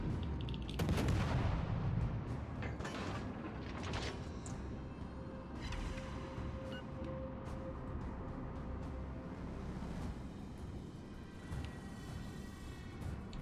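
Torpedoes striking a ship in World of Warships Legends, heavy booming explosions up front followed by a rumbling wash of battle noise and scattered distant blasts, with no talking.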